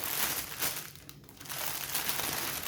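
Crinkling of zipped plastic bags holding diamond painting beads, a continuous close rustle that dips briefly midway and then resumes, with no talking.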